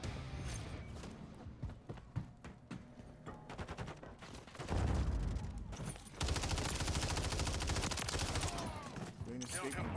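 Rapid bursts of gunfire from Modern Warfare 3 gameplay, dense automatic volleys and single shots layered throughout, growing louder and sustained in the second half, with voices talking over the game.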